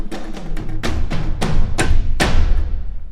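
Epic cinematic drums from a sample library called Armageddon, a dense loud pattern of heavy booming thuds and sharper accented hits over roughly three seconds, with long reverberant low tails and no voices.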